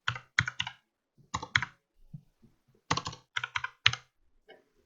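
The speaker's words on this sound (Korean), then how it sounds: "사업자 번호를 입력을 하시고 스페이스바하고 탭키만 눌러주시면 돼요" Spacebar and tab keys pressed on a computer keyboard while entering a business number on a tax filing website: distinct, close, fairly loud clacks in small bursts separated by brief gaps, with faint softer clicks between, no talking.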